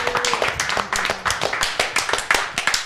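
A small group of people clapping at a gathering at the Black Lady Theater, lively and fairly close with rapid, slightly uneven claps, and voices faintly underneath.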